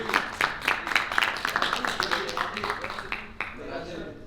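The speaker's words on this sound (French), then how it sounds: "Vous pouvez l'applaudir." An audience at a physics and chemistry science show applauds a young volunteer, a burst of clapping that runs for several seconds under a talking host and fades near the end.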